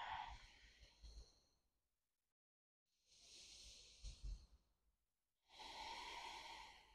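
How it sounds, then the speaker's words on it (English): Deep yoga breathing close to the microphone: slow, audible inhales and exhales in long breathy swells separated by brief quiet pauses, with no talking. "And breathing deeply."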